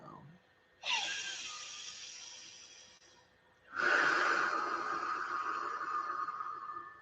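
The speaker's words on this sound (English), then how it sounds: "I'm going to do some breathing pattern work." Deep breathing pattern exercise during a guided meditation: two slow, loud breaths close to the microphone, a drawn-in breath followed by a long, steady airy exhale, separated by a brief quiet pause.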